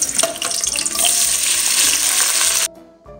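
Onions fry in hot ghee in a pan for a baingan bharta base, a loud, dense, steady sizzle that cuts off abruptly near the end, leaving near silence.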